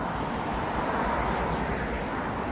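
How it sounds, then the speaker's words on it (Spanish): Steady broadband hiss of tyres on highway asphalt as mostly electric cars and motorbikes pass on a road in China, a continuous even roar with no engine sound or voices. "Lo único que escucháis es el ruido de los neumáticos con el asfalto."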